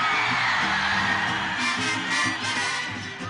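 A concert crowd at a ranchera show lets out a loud, sustained collective shout and whoops on cue, a dense roar of many voices that fades slightly toward the end.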